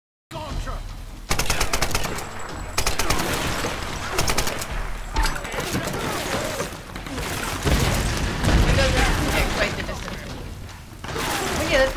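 Gunfire and machine gun shots in the video game Tomb Raider, with dense rapid bursts and scattered single shots almost continuously throughout, loud and close, and a player talking intermittently over the firing.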